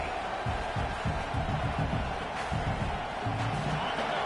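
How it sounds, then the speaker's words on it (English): A stadium crowd in a college football video game, LSU against OU, roars steadily throughout, a dense continuous wall of cheering with rhythmic thumping underneath. "This crowd full throat, splitting the eardrums and letting them know it's going to be a long day."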